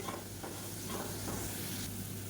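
A spicy Tamil side dish is stirred and roasted in a pan over a high flame, giving a steady soft sizzle and hiss with a few faint scraping stirs, and no voice over it.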